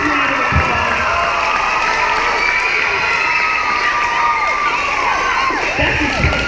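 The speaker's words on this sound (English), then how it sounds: "Huge round of applause." Elementary school children in a gym cheer, shout and clap after a balance trick on a Bosu ball, a loud continuous crowd roar with high excited voices throughout.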